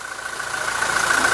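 A Toyota Hilux Revo 2.4-litre turbo diesel engine runs steadily with a low idle rumble and a persistent mid-pitched whine, holding even throughout.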